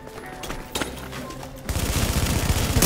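Video game gunfire: scattered shots at first, then a dense, loud burst of rapid automatic fire through the final second.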